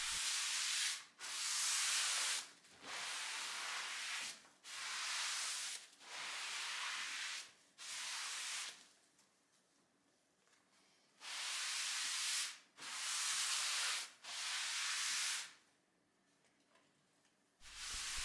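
Dark brown stain is wiped onto a soft pine desktop with a cloth, making repeated close, soft rubbing strokes of a second or two each, separated by brief pauses, with no talking.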